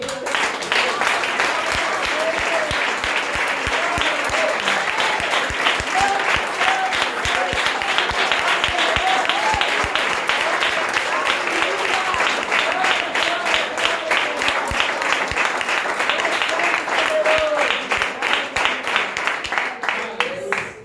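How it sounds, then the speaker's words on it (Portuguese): A church congregation gives sustained, loud applause for about twenty seconds, an even wall of clapping that tapers off at the close. "nós vamos aplaudir"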